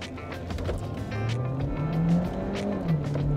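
A Chery Omoda 5 GT AWD accelerates hard in sport mode, its engine note rising steadily under a continuous road and tire roar, heard from inside the car with no talk.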